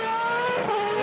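Superleague Formula race cars from 2008 drive through the Michael Schumacher S at the Nürburgring, giving a loud, high-revving engine whine that holds steady and close for about a second.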